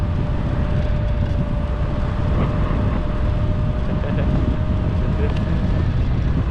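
Teewing GT4 electric scooter ridden at speed over pavement, roughly 30 to 40 mph, with a steady roar of wind buffeting and road noise throughout and a faint electric motor whine running beneath it.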